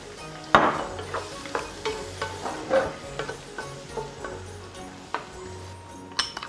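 Garlic and dried tofu stir-fried in a pan with rendered fat, giving a steady sizzle broken by a loud scrape near the start and repeated utensil clinks and stirring knocks, with no voices.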